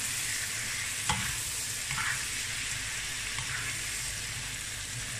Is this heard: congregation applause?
no